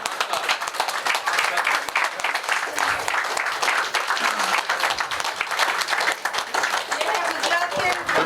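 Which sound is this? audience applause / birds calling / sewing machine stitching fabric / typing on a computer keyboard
audience applause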